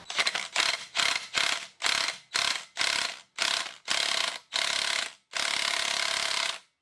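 An Ugga impact wrench hammers on a Dana 60 axle housing held on a stand, firing about ten loud, close rattling bursts in quick succession, the last one held longest.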